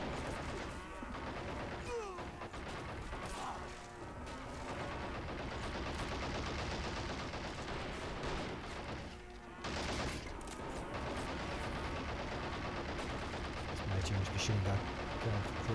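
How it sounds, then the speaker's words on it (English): Machine guns and other gunfire rattle without a break across a battlefield in the Men of War Assault Squad 2 Operation Overlord mission, with dense overlapping bursts and crashes. "Machine gun, going through as many as he can."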